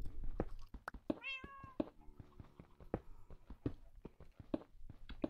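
A cat meows in Minecraft, a short rising-and-falling call in the middle of steady in-game clicks and thumps, near and moderately loud.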